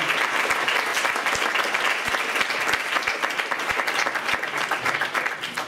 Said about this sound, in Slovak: Ešte raz velikánsky potlesk pre prvé.